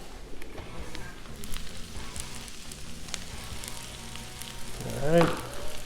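Butter sizzles and crackles on a hot Blackstone flat-top griddle set to medium high, a steady close frying hiss with a brief louder flare of sizzle near the end.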